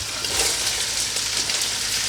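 Onions and celery frying in rendered bacon fat in a pot, a steady close hiss and crackle of sizzling with no speech.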